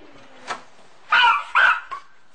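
A dog in a house gives two loud, close barks, preceded by a faint yip and followed by a short softer one.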